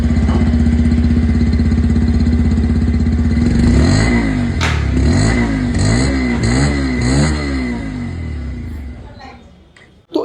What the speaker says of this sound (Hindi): पल्सर 125 है इसकी जो आवाज़ है वो मैं आप लोग को यहाँ पर सुना देता हूँ।